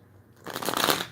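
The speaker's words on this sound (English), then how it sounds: "we're going to give them a couple more shuffles" A deck of tarot cards is riffle-shuffled once, close up: a short quiet lead-in, then a crisp, rapid flutter of cards lasting about half a second.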